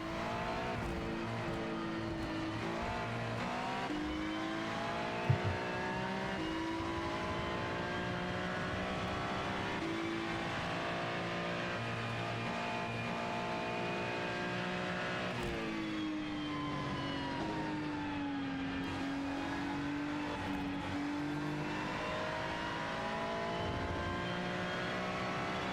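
Onboard engine of a Ferrari endurance race car at Magny-Cours, a loud sustained high-pitched roar with rising revs, gear changes and braking drops, continuous and close throughout.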